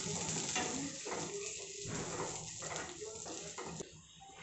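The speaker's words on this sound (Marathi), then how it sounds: "तूप गरम झालं, ड्रायफ्रूट परतून घेऊयात।" Dry fruits sautéed in hot ghee in a pan for a dry-fruit modak recipe, a continuous sizzle with stirring scrapes, and a voice speaking throughout over the cooking.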